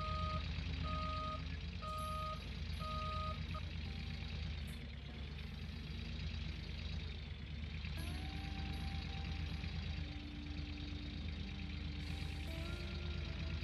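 A wheel loader running on a gold mining site, its heavy diesel engine droning steadily while a high reversing alarm beeps in regular pulses, pausing and then resuming, close and loud.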